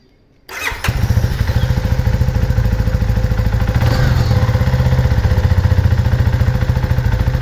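A motorcycle engine, freshly serviced with new oil and filter, starts after a brief click and settles into a loud, steady, rapid idle thump with mechanical clatter, running close and alone for several seconds.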